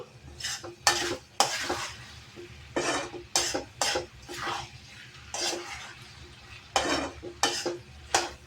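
Ivy gourd and peanut stir-fry is turned in a pan with a spatula, a series of distinct scraping stirs in irregular bursts over a faint sizzle, close and with no talking.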